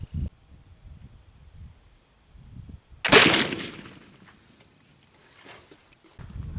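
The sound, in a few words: black powder gun firing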